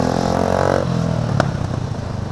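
Motorcycle engines idling and revving loudly close by as a group of bikes is started and ridden off, a steady rumbling drone with a brief clatter partway through.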